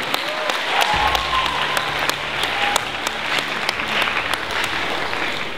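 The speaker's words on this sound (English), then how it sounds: "One big round of applause for both teams because they are outstanding debaters" A debate audience gives a steady, sustained round of applause for both debate teams, a full wash of many hands clapping at a constant level throughout.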